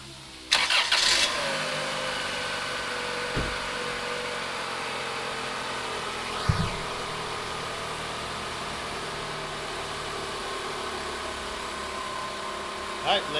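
A Chrysler Sebring's engine cranks and catches with a burst of starter noise, then settles into a steady, even idle that runs on for many seconds, close by, with a couple of faint knocks.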